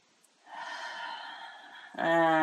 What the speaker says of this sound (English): Let the energy flow through the breath. One more deep breath.